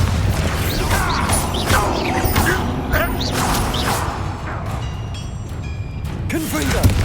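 A Bombarda spell blast in the video game Hogwarts Legacy, a loud crashing burst amid a constant roar of combat noise with whooshing sounds.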